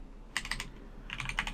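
Two short bursts of quick keystrokes on a computer keyboard, typing a WSL command in Windows 11, close and clear in a quiet room.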